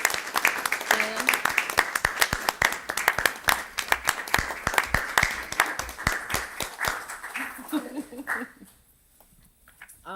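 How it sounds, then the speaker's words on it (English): City council meeting audience applauding the event team, a dense burst of clapping that fades out near the end, with some voices mixed in. "I'd like to give them a big round of applause"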